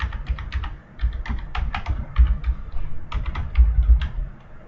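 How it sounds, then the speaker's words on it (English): Someone types a patient's name on a computer keyboard while entering an order in Cerner medical software, a close run of quick, uneven key taps with brief pauses. "we're going to go ahead and type in the patient's last and first name"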